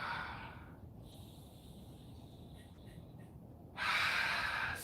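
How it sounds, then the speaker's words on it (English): Forceful nasal breathing during a home yoga exercise, two loud breathy bursts at the start and end with a quieter stretch between, close to the mic. "Strong breathing through the nose."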